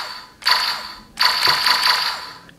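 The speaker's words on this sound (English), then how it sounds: "So if you pull the trigger, we'll get a basic shooting sound." Kirameki Juu DX Kiramei Shot toy gun giving its basic shooting sound: two bright electronic sound-effect bursts, the second longer, played loud and close with no talk.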